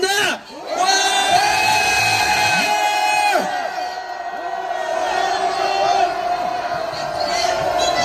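A large crowd at a street rally outside a university roars a sustained cheer, voices layered into a loud, continuous shout that swells and dips.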